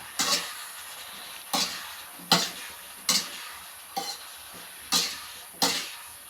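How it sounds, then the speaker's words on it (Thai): Vegetables stir-fried with white sugar in a pan: seven evenly spaced scraping strokes of the spatula against the pan, each a short loud swish, over a soft continuous sizzle. "จากนั้นเราก็จะผัด"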